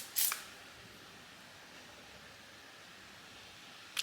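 A single short hiss of aerosol air freshener, frosted pine and eucalyptus scent, sprayed close by, with a second brief burst of spray at the very end and quiet room tone between.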